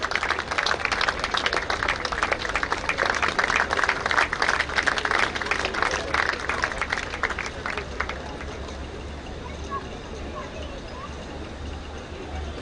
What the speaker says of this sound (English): Can we have a round of applause for the runners-up, Diane Rodriguez and Nisha Springett.